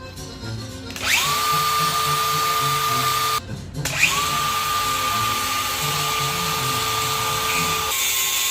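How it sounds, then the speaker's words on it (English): A handheld grinder cutting through a taped-up transmission cooler line on a turbo OBS truck, a loud, close, high whine that spins up, stops briefly, and spins up again. "get your grinder, cut it off"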